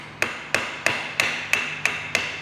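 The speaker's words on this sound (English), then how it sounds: "tap it out with a soft base mallet." A soft mallet tapping a starter motor out of a Vespa 150 3V engine case: eight evenly spaced, crisp knocks about a third of a second apart, close and clear with no other sound.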